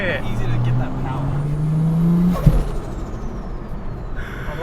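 Car engine compared to a Ford XR6 Turbo, heard from on board as a droning mid-range note rising under load, then a sharp turbo whoosh or blow-off with a fading whistle, while people talk over it.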